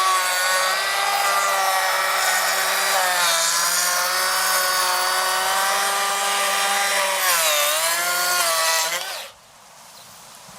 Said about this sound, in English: I'll just now show you the tool running, cutting with that side of the drum